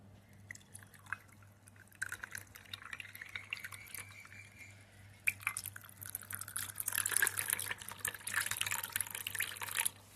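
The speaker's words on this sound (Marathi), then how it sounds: "आणि त्यानंतर पाणी ॲड करायचा." Water poured into raw mango panha made with roasted mango pulp, a faint trickling and dripping that grows into a steadier, louder splashing pour in the second half against a low background hum.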